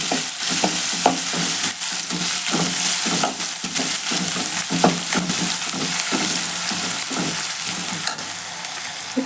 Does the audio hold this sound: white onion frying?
yes